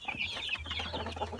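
Two-month-old Rhode Island Red chickens cluck close by in a steady run of short, bright calls over a low, continuous hum.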